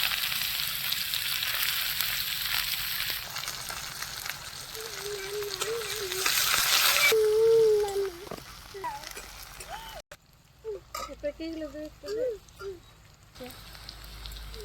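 Chopped onions fry in a pan with cinnamon, cloves and cardamom for a spicy chicken kasha. A loud, continuous sizzle fills the first half, then fades under a person talking.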